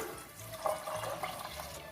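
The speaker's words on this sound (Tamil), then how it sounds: "சுண்டல் முழுகிற அளவு தண்ணி ஊத்திக்கலாம்." Water pours from a vessel over soaked white chickpeas in a pressure cooker, a soft, close splashing and gurgling of liquid lasting under two seconds, with no talking.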